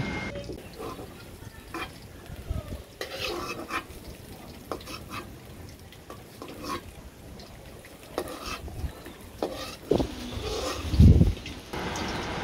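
Bora fritters frying in a pan on an open rooftop, a steady low sizzle with stirring scrapes and occasional clinks of utensils, plus a brief louder knock near the end.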